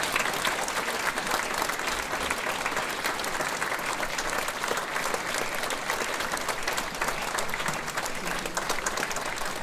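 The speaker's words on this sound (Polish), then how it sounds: "Wielkie brawa dla kierowników zespołu" Steady, dense applause from an audience at a Cieszyn Silesia regional awards ceremony, honouring the ensemble leaders; continuous clapping holds at an even level throughout with no voices.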